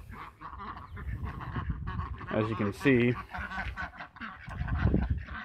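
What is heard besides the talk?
runner ducks waiting to be fed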